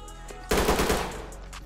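Gunfire from a tactical shooter game, Ready or Not: a loud burst of automatic shots erupts suddenly and then rings out into a decaying tail, close and dominant over faint background ambience.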